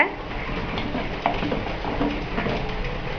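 Fried cashews are stirred into aloe vera payasam in a pot, a steady soft scraping and bubbling texture with a couple of light utensil taps and faint background murmur.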